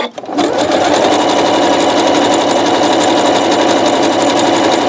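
A sewing machine stitching a rope bowl runs loud and close in one continuous, even mechanical whir after a brief start, never pausing.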